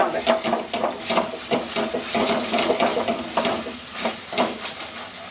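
A pan of chicken vindaloo masala fries with a busy, continuous sizzle and repeated scraping strokes of a spoon, loud and close throughout, as a little hot water goes in at the side.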